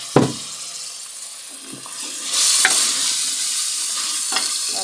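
Garlic sizzling in a pan for an aloo matar curry, with steady frying and stirring. A splash of water joins partway through and the hiss swells louder.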